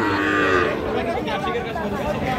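A young bull calf lows with a drawn-out, wavering moo close by, lasting a couple of seconds with faint background murmur.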